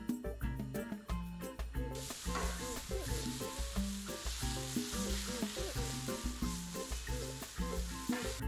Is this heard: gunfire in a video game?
no